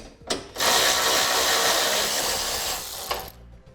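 A close ratchet spins steadily as it backs out bumper bolts on a car, giving a continuous rapid clicking rattle for about three seconds, with a sharp click at the start and at the end.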